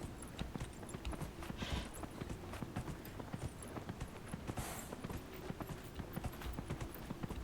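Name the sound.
horse hooves clip-clopping while riding in Dragon Age: Inquisition video game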